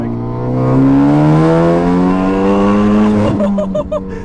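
A loud straight-piped, meth-injected Ford Focus ST of about 350 bhp revs hard through second gear, its engine note climbing steadily before a sharp break and choppy, stuttering pops as it slides.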